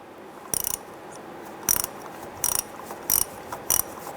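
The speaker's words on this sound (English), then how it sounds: "We're going to use our 7mm deep socket in small extension on our 1/4" drive ratchet. And you want to go ahead and loosen and remove that screw." A 1/4-inch drive ratchet with a 7mm deep socket and small extension loosens a screw on a 2005-2010 Chrysler 300 wiring harness connector, giving five short bursts of crisp, close clicking spaced about a second apart.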